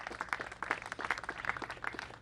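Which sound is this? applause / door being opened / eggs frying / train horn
applause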